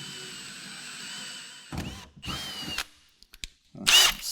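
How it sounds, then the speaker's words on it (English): Power drill with a slightly larger bit enlarging a pilot hole in a pickup truck bed for a gooseneck hitch: quiet at first, then several short, loud whirring bursts in uneven succession. "I'm going to take a slightly larger drill bit and enlarge that pilot hole"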